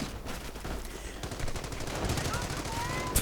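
Machine gun fire in a real-time strategy game battle, steady rapid rattling bursts running throughout at moderate loudness, mixed with other battlefield noise.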